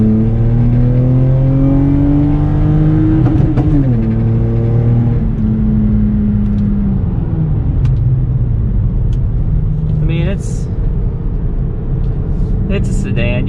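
Lexus GS300 sedan engine revving hard as it accelerates, rising and falling through a couple of gear pulls, loud and close from inside the car, with brief road rumble and no talking over it.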